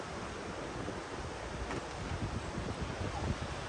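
Steady wind gusts through woodland around a hammock camp, a broad continuous rushing that swells slightly toward the end, fairly close and loud with no voices.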